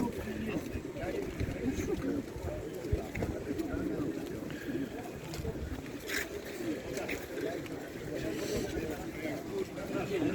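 Pigeons coo low and continuously in a dense, murmuring chorus close by inside a pigeon loft at a pigeon market, with scattered rustles and occasional voices.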